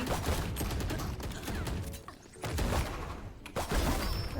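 Gunfire in a shooting video game: dense, rapid bursts of shots crackle almost continuously, with a short lull midway before the firing resumes, loud and close.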